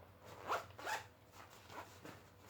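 A zipper is pulled shut on a cabin travel bag in several quick, close rasping strokes, each a short bright zip, with no talking over them.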